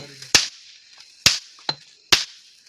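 Diwali firecrackers burst outdoors in a Gujarati village setting, three loud sharp bangs and one smaller pop spaced under a second apart, with faint voices in the background between blasts.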